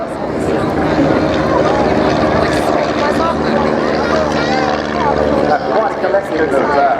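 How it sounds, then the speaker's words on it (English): Aircraft flying at the Wings and Wheels airshow at Dunsfold in 2014 give a steady, loud engine and propeller drone that fills the whole stretch, with people talking over it. "quite a collection of aeroplanes"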